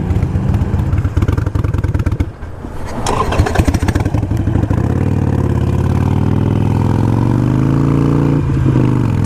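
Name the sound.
Harley Iron 883 engine idling then stalling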